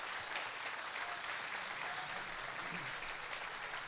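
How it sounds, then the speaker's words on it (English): A roomful of people at a community night event claps in a steady, continuous wash of applause, fairly distant and soft, holding evenly throughout. "So a round of applause for that too,"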